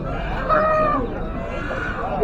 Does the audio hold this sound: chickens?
yes